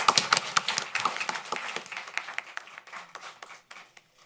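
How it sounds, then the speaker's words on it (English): Applause at a school board of education meeting for Ms. Jones, a small group clapping near the microphone with distinct individual claps, loud at first and thinning out to scattered hands as it fades. "Let's give one more round of applause to Ms."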